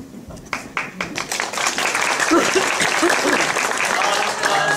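Audience applause after a theatre performance, starting with scattered separate claps and quickly growing into dense, loud, sustained clapping with some voices and laughter mixed in.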